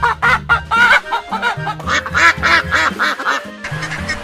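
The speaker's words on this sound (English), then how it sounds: "Duck. Duck." A duck quacks repeatedly, a loud, close run of raspy quacks in an uneven rhythm, with no other sounds alongside.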